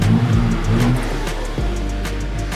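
A Pontiac G8 engine revs hard with an all-intake sound and no exhaust note, loud and close, climbing twice in quick succession with a brief drop between.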